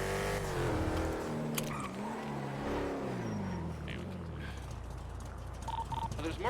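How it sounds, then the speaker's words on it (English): Cars in GTA V NoPixel roleplay drive past close by with a rising and falling engine drone, tires hissing on the road and a short beep near the end, while a person talks over the traffic noise. "there's more cars driving around"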